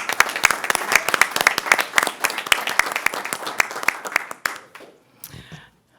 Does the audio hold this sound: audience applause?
yes